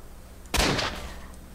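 A single loud gunshot in S.T.A.L.K.E.R.: Shadow of Chernobyl, a sharp close crack with a rumbling tail that lingers for about a second, no talk over it.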